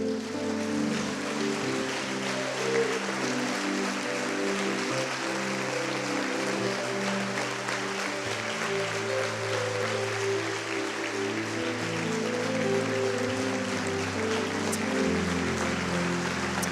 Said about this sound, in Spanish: Y como iglesia les vamos a aplaudir y les vamos a bendecir.